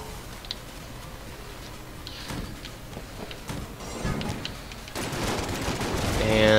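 Rapid shotgun gunfire in the bullet-hell video game Enter the Gungeon, a dense clatter of overlapping shots that grows louder and busier toward the end, with no talking.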